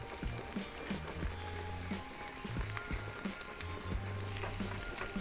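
Onions frying on a grill plate, a steady dense sizzle with occasional crackles and pops, close and continuous throughout.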